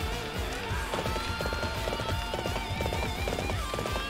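Horse galloping in the video game Warriors Orochi 3, a quick repeating rhythm of hoofbeats over a busy battlefield mix of music and effects, moderately loud throughout.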